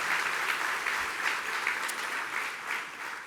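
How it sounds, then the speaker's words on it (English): An audience at an awards luncheon for Father of the Year honorees gives a round of applause: full, sustained clapping from many hands, fairly loud and even, with no voices over it. "I want to begin by giving another round of applause and congratulations to the honorees."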